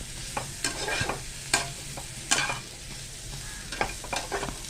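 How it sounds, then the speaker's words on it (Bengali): Garlic frying in a pan with potato and cauliflower for a prawn and cauliflower curry, a continuous soft sizzle punctuated by several quick spatula scrapes and stirs, close and without speech. "আমি রসুনটাও দিয়ে দিলাম। দিয়ে ভালোভাবে কিন্তু ভেজে নিতে হবে"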